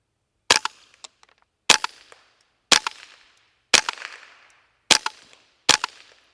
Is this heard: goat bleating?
no